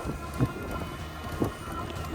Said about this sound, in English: drizzle's picking up.